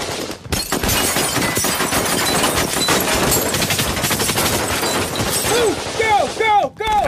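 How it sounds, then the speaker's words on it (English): Rapid bursts of gunfire crackle continuously during a hijacked-airliner rescue by French Special Forces, loud and dense, with a few higher chirping calls near the end. "the French Special Forces is evacuating the passengers through a hail of gunfire"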